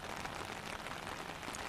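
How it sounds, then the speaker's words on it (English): Steady rain falls on hard outdoor surfaces during a stormy morning, a dense, even hiss of countless drops, faint and unbroken, with no voices. "Well, Gloria, it's raining, lightning, and thundering here"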